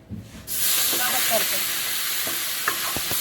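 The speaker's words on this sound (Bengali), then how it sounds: "সব চিংড়িগুলো ভাজা হয়ে গেছে তেলের মধ্যে" Prawns of various sizes, big and small, sizzling as they fry in hot oil in a home kitchen, a steady loud hiss starting abruptly and continuing throughout with faint stirring clinks.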